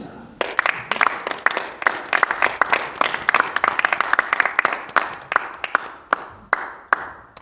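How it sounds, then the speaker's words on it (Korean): An audience at a Korean church general assembly worship service claps to welcome a pastor's entrance, a dense burst of applause with sharp individual claps standing out, thinning toward the end. "우리 목사님 나오실 때 우리 박수로 환영합니다"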